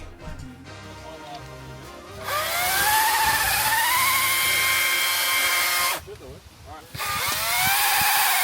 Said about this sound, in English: For a little 12-inch top handle chainsaw, this is probably the biggest workout it's given, and it cut through all the trees just fine